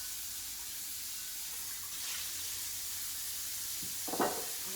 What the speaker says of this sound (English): Rinse the beans.